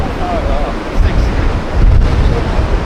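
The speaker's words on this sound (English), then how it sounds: "this wind is absolutely ripping now" Strong coastal wind roars across the microphone during a huge swell, a loud continuous rumbling buffet with surging gusts and a wash of surf underneath.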